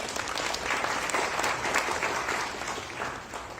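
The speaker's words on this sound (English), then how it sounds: "Let's give another hand of applause" An audience at a Taiwan Excellence 2017 kick-off press conference applauds a speech with dense, continuous clapping. The applause holds steady and full for several seconds, then eases slightly toward the end, with no voices over it.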